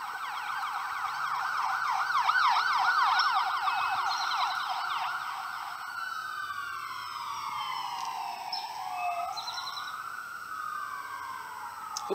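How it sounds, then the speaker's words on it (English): An ambulance siren wails outside, sweeping through fast rising and falling cycles before shifting into a slower, longer wail, steady and moderately loud throughout with no talking. "hope that isn't Jade Helm ambulance."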